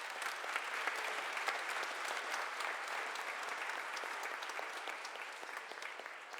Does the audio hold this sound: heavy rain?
no